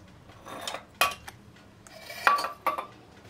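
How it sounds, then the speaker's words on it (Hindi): Sama rice idli batter is stirred in a bowl with a metal spoon, giving a few scattered clinks and scrapes of utensil on dish, close and intermittent with quiet gaps between. "बैटर को मैं मिक्स कर लेती हूँ"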